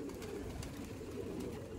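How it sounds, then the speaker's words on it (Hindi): Pigeons coo softly at a loft as the flock returns, faint low murmuring calls repeating over a steady background hum. "ये आ गए भाई सारे कबूतर"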